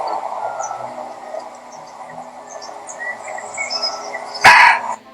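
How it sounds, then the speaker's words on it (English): A single sharp, loud bark-like call from a muntjac (barking deer) bursts out near the end over a steady background chorus of crickets. "This is a muntjac, but for obvious reasons, most people know it as the barking deer"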